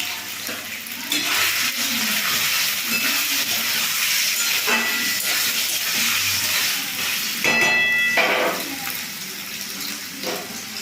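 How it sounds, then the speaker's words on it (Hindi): Paneer frying in a pan gives off a loud, steady sizzle and hiss that carries on throughout, with a few brief louder spatters along the way. "यहाँ पे हम पनीर को फ्राई कर लेंगे।"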